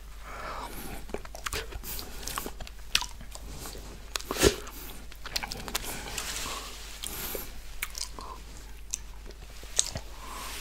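Close, quiet mouth sounds of licking a lollipop and eating whipped cream, with soft wet smacks, squishes and small clicks scattered steadily throughout, one sharper pop near the middle.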